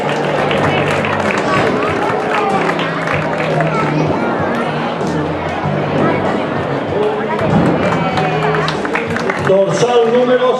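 A crowd at a cycling race in Canals applauds a rider, with steady clapping and cheering mixed into a dense, loud wash of spectator chatter lasting throughout.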